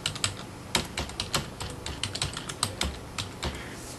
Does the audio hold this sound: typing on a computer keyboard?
yes